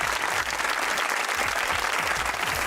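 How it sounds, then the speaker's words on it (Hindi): Studio audience applauding on a televised interview show, a brief steady burst of dense clapping at moderate level with no voices over it. "तालियां होनी चाहिए जमहूरियत के लिए।"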